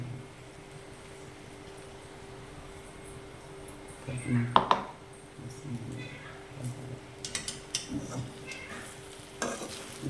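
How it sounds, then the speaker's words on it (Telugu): A spoon scrapes and stirs through thick sabudana khichdi with peanut powder in a pan, with soft clinks and a low sizzle, irregular strokes throughout. "మంచిగా కలుపుకోవాలి. ఇంత కలిపేలాగా మొత్తం దీనికి పట్టేటట్టు కలుపుకోవాలి."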